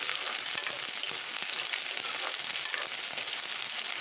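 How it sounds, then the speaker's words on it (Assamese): Onions frying and being stirred in a pan for a local chicken curry, a steady close sizzle with scraping stir strokes throughout and no talking. "এতিয়া মই এই পিঁয়াজখিনি ভালকৈ লৰাই ল'ম।"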